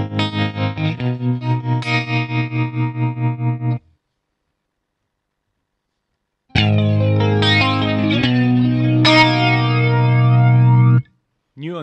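An electric guitar is played through a Digitech RP155 modeling guitar processor, with effect combinations on an amp model: a pulsing chorus-laden chord pattern, a pause, then distorted sustained chords and notes, loud and close.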